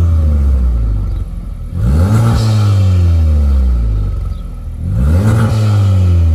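A Honda FK8 Civic Type R with an ARMYTRIX cat-back exhaust and decatted downpipe, valve closed, revs twice in loud close blips, each rising then falling back to a deep idle rumble.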